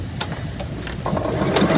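A sewing machine stitches a slightly generous quarter-inch seam on a clamshell quilt piece, a steady close mechanical whir that grows a little louder and denser in its second half.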